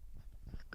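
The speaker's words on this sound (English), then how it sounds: "Sorry for the handling noise." Microphone handling noise while a guitar is being set up: soft low thumps, rubs and small clicks, faint and close, with no talking.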